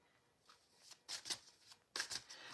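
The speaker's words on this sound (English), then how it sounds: "Now shuffling my Angel Rose Oracle" Angel Rose Oracle cards being shuffled, a few brisk riffling bursts with quieter handling between, close by and soft.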